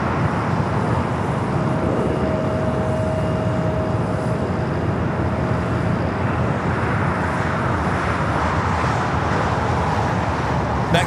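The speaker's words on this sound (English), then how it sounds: "Flight coming in from Columbus, Ohio, 737-800 with United" A United Boeing 737-800 arriving at LAX gives a broad, steady roar of jet engines, fairly close and sustained throughout, mixed with a faint background of airport and road noise.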